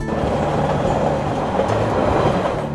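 Train sound effect in a Korean picture-book reading: a steady, loud rumble of rolling rail cars with a faint clatter of wheels, continuous throughout with no speech.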